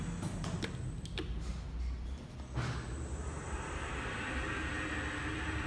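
A Kone traction elevator machine runs with a steady low motor hum, while light ticks and creaks sound near the start before the drive settles into an even whir.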